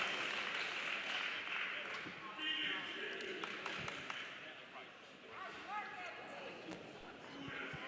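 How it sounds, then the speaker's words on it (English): A cagefighting event crowd applauds two grapplers after a rear naked choke submission, sustained clapping and cheering mixed with an announcer's voice and scattered shouts in a large hall. "Let's give these two grapplers another round of applause."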